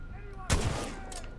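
A single heavy shotgun blast in the video game Titanfall 2, a sharp boom followed by a lingering rumbling tail, with a fainter second report after it.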